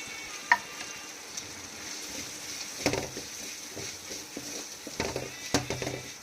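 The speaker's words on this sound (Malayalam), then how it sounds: "തക്കാളിയും കൂടി ചേർത്തിട്ട് നമുക്ക് ഒന്നും കൂടെ ഒന്ന് വഴറ്റിയെടുക്കാം" Tomatoes and onions with crushed pepper sautéing in a pan for a Kerala tuna head curry, a soft steady sizzle broken by a few louder stirring scrapes and clanks near the end, no talk.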